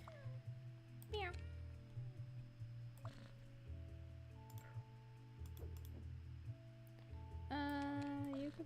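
A cat gives several short meows scattered over a few seconds, faint against a steady low hum, with a louder cry near the end and brief ticking sounds between them.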